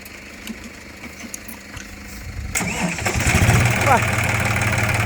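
A John Deere 5045D tractor engine cranks and catches, then settles into a steady, rumbling idle close by, with a voice talking over it.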